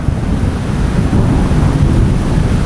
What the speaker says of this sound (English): Dark clouds are here and it's starting to pour